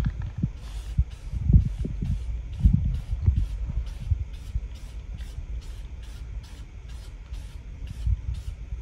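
Gray Rust-Oleum Ultra Cover primer sprays from a can in a rapid series of short, regular hissing bursts, fairly quiet and close, over a low background rumble.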